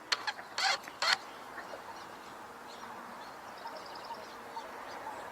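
Black terns calling over a wetland where wood ducks and ducklings swim: a few short, harsh, faint chattering calls at the start, then a quiet watery background.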